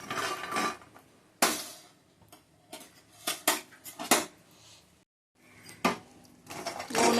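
Puffed rice and makhana being lightly dry-roasted in a pan, with repeated scraping and clinking of a metal spoon against the pan in irregular bursts, close up and with no talk.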